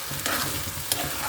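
Vegetables cooking with noodles in a pan give off a steady hiss and sizzle, with a couple of sharp clinks from stirring.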